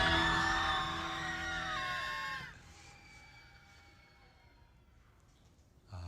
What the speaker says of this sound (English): Why are we rage screaming?